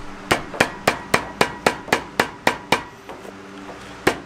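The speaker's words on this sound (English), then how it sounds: "we're going to use this nice fat pamphlet and a hammer" A hammer strikes a VW Beetle's metal exhaust pipes in a steady series of sharp, ringing blows, about a dozen hits, then a pause before one last strike.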